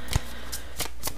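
Tarot cards drawn and handled on a table during a reading, giving a few short, soft papery flicks and slides close by with a quiet pause between them, no talking.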